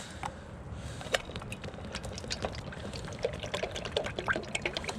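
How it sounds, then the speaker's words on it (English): Cooking oil is poured into a pot set beside an outdoor fire, a soft, close, steady pouring trickle with faint crackles and clinks throughout and no talk. "we're gonna have to get a pot going with some oil. So we'll just fill her up."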